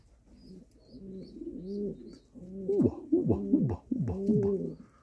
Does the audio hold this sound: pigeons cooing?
yes